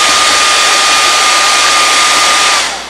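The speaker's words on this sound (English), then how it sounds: "I'm going to give a little shot with the hairdryer." A hair dryer blows steadily and loudly for almost three seconds with a thin whine over the broadband rush, then begins to wind down at the end, while a puppet head is being made.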